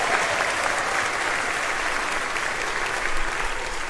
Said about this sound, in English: Big cheer for them.